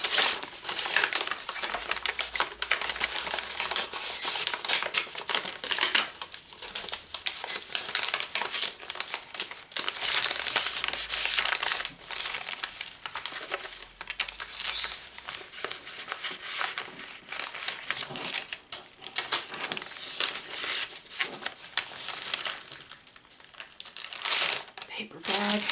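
A paper bag is handled and crinkled while a vintage sewing journal is assembled, giving steady close rustling and crackling that runs almost continuously throughout, with brief pauses and speech also present.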